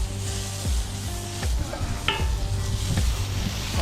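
Oil and butter sizzle on a hot griddle for wild game burgers, a steady close crackle broken by a few scraping knocks from a utensil, with no talk.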